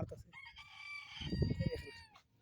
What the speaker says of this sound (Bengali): এই দেখেন মোরগগুলো